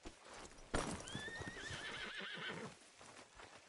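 A horse in the video game Red Dead Redemption 2 lets out a loud, drawn-out whinny right after a sharp thump, with hooves clopping close by and fading as the neigh trails off.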